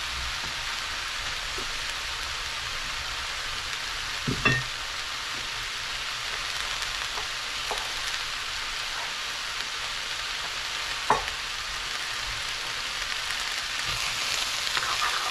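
Cabbage and carrot sautéing in a pan give a steady, even sizzle throughout, with a few faint clinks of stirring and no talking.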